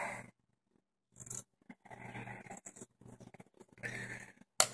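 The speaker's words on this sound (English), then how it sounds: "Cut a nice healthy bit of cotton out of there." Scissors snip through a piece of unrolled cotton wool in several short bursts of soft crisp cutting and scraping, separated by brief pauses, with a sharp click at the very end.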